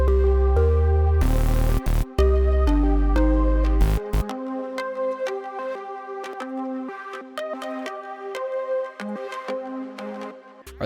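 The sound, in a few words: synth pluck preset Space Frog in Hive synthesizer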